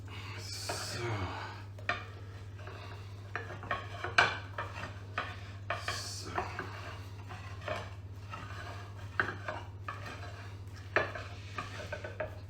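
Blueberry buttermilk cake batter being stirred and folded in a bowl, with a run of irregular scraping taps and clinks from the utensil against the bowl, close and moderately quiet over a steady low hum.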